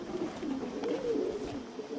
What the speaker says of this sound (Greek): ήρθαν όλα τα περιστέρια